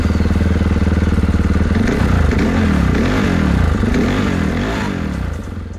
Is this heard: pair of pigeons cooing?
no